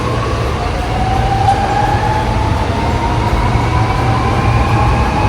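A Sydney metro train at an underground station platform, a loud continuous rumble with a rising tonal whine, close and steady throughout.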